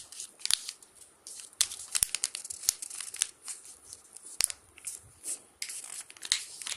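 Sheets of paper being creased and folded into an origami boat make soft, close crinkles, sharp snaps and rustles in irregular bursts, fairly quiet throughout.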